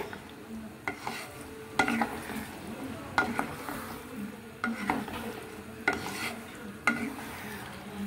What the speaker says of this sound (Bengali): একটু ভালো করে নাড়াতে চাড়াতে হবে।